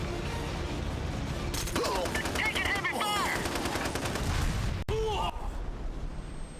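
Video game gunfire in SOCOM US Navy Seals 3, a burst of rapid automatic fire followed by spaced single shots, loud and close, with a voice faintly beneath.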